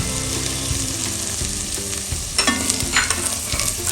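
Kashmiri red chilli frying in a pan for butter chicken, a loud continuous close sizzle with occasional stirring scrapes and clinks toward the end.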